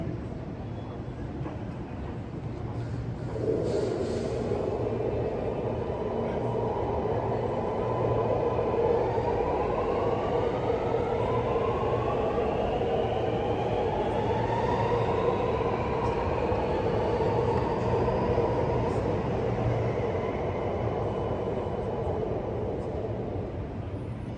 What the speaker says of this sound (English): The train to Chatswood is going to enter platform 2